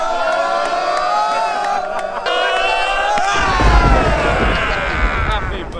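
A crowd of Sunday League football supporters at a SE Dons vs Hatcham match cheers loudly, with voices rising into a dense, close roar in the second half while whistle-like tones and shouts carry over the noise.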